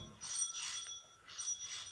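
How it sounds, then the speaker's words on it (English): Two bright ringing bursts from a front doorbell, about a second apart, sound close by with no voices. "when the front doorbell rang"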